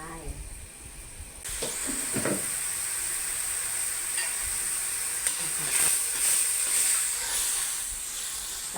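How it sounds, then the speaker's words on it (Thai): Coconut cream heating in a wok over a newly lit burner for Thai chu chee shrimp curry, giving a steady, close hiss with faint bubbling and light sizzle that continues after a brief quieter start. "เอาหัวกะทิใส่กระทะค่ะ กะทิใส่กระทะนะคะ แล้วก็เปิดไฟ"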